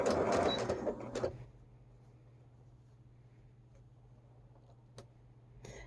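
Sewing machine fitted with a bias binding foot stitching fabric, a low steady motor hum with faint ticking that follows a louder rustle at the start, with a sharp click near the end.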